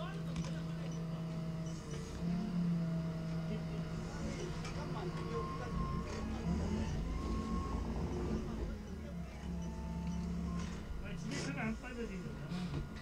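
A forklift stuck in soft, weak ground near a dig, its engine droning and revving steadily throughout with mechanical clanks and rattles, close and loud, while someone speaks over it.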